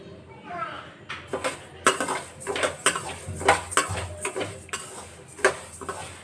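Dry fruits being stirred and roasted in a pan, with a spoon or spatula scraping and clattering against the metal in irregular bursts, close and fairly loud.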